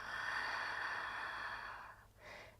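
A long, steady exhale through the nose or mouth during a guided breathing exercise, close and breathy for about two seconds, followed by a shorter second breath, with no talking.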